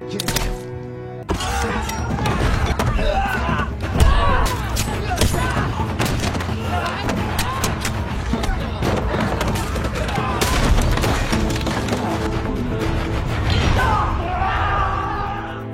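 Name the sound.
gunshots in a movie scene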